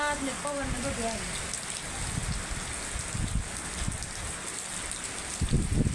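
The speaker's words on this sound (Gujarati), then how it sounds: "આમ વરસાદ એ છે અને હારે પવન ફૂલે ફૂલે આવે" Heavy rain falls with gusting wind, a broad continuous hiss with low rumbling bursts of wind buffeting nearby, and a short tonal chirp at the start.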